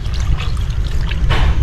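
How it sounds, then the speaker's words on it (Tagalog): Water poured into a cooking pot for a simmering dish with eggplant, a close, low splashing gurgle running steadily with a brighter burst near the end, no talk over it. "Lagyan natin ng tubig ngayon."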